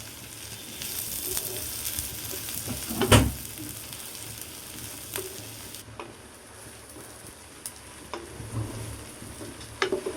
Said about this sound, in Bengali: এখন পেঁয়াজগুলো হালকা বাদামি কালার করে নেব।